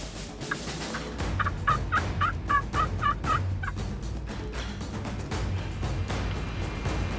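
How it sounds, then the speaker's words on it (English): A wild turkey gobbler gobbles in response to a call, a rapid rattling gobble at moderate distance heard over steady outdoor background noise, followed by quieter rustling. "I can hear him. A gobbler responded."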